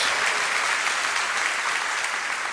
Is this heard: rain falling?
no